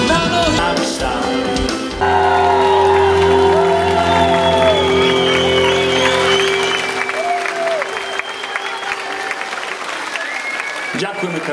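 An audience at a concert applauds loudly, with whoops and cheers over a sustained held music note. The clapping stays strong, then thins toward the end.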